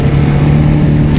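A TVS Apache RR310 motorcycle fitted with an RT slipper clutch drones loudly and steadily while riding after shifting into gear, a close, continuous engine hum with no talk.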